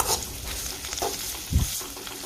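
Chopped onion sizzles in hot oil, a steady crackling hiss with a few spoon scrapes and a louder stir knock midway; close and alone.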